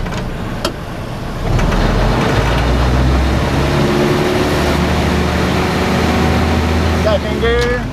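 A Willys CJ2a jeep with its L134 engine drives in first gear, a loud, steady low engine drone that swells after a moment and holds, with a few faint clicks and squeaks over it.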